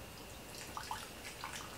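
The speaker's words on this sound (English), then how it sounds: "so I'm just going to pour from there." Herbal tea poured from a pot through a built-in strainer, a faint, steady trickle of liquid with a few small splashes and drips, quiet and close.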